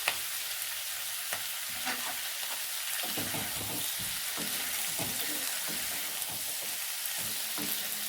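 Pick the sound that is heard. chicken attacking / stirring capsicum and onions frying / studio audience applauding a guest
stirring capsicum and onions frying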